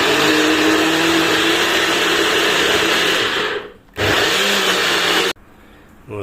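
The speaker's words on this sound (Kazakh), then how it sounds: "Енді блендерден өткіземіз." A kitchen blender whirs loudly and steadily while blending soaked grains with water to make a milk, cutting out briefly twice before starting up again, with no talking.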